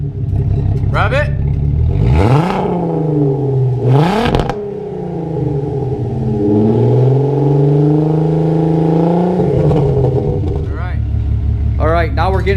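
A VW Mk4 with a VR6 engine revs through a large 3.5-inch exhaust pipe and tip. The engine gives two sharp throttle blips, then a long sustained rev that rises and falls before settling, with brief voices between the blips.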